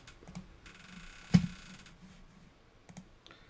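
A few sharp computer mouse clicks at a desk, one louder click near the middle and a couple of quieter ones later, in a quiet room with no talk.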